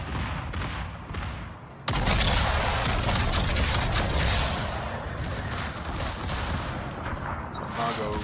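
Warship gun batteries firing in the naval video game World of Warships: after a quieter stretch, a loud heavy salvo erupts and rolls into sustained booming and rumbling gunfire that continues to the end, dense and close.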